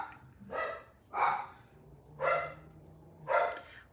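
Henry, a 14-year-old dog, barks four times in a steady rhythm, each bark fairly loud and close, with quiet pauses between and no talking.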